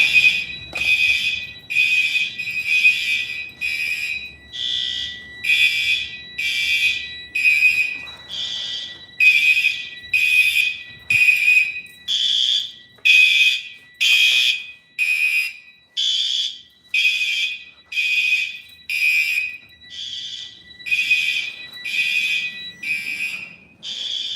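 Fire alarm sounding during a test, a loud, shrill electronic tone pulsing on and off in a steady rhythm, about twenty repeated blasts with no voices.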